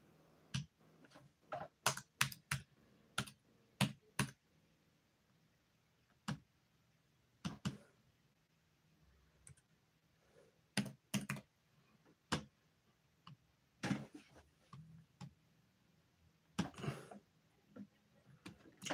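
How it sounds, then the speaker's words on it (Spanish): Typing on a computer keyboard: sharp irregular key clicks in bursts and pauses, close and fairly clear, with a quiet room behind them. "le estoy tecleando aquí en inglés"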